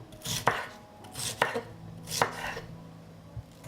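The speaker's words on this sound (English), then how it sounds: "I cut the pepper into thicker slices" A knife slices a fleshy pepper into thick pieces on a board. Three crisp, close chopping thuds land about a second apart, each with a short crunch, followed by a quieter tap, with no voices.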